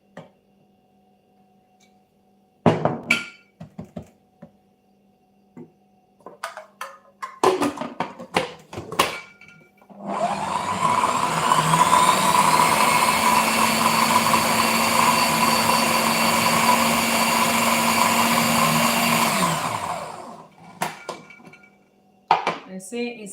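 A blender whirs loudly and steadily for about ten seconds, pureeing beetroot with olive oil into a thick mixture, framed before and after by clinks and clatter of dishes and utensils.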